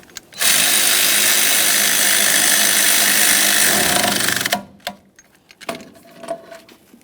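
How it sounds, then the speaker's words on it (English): A power tool runs down an exhaust manifold mounting bolt on a 1999-2006 Chevrolet Silverado 1500 with the 4.3L V6. A loud, steady whirring grind lasts about four seconds and then cuts off, leaving a few scattered clicks and clatters. "we'll bottom it out, and then we'll torque that to 35 foot-pounds"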